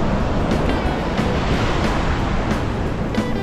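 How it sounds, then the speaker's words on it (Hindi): Ocean waves break on Paradise Beach in Pondicherry, India, making a continuous loud roar of surf mixed with wind buffeting the microphone. "एकदम जबरदस्त लहरें आ रही है भाई"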